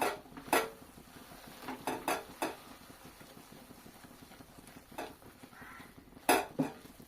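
Chana dal halwa is stirred and fried in a pan, with repeated scraping and clinking of the spoon against the metal in uneven bursts over a faint background.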